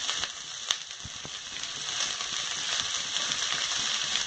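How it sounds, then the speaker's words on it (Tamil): Onion and cabbage, with garlic, sautéing in a pan for paneer fried rice produce a faint, continuous sizzle with occasional light stirring ticks. "வெங்காயம் கொஞ்சமாக வதங்கிடுச்சு. இதில் கொஞ்சம் கோஸ் சேர்த்துக்கலாம்."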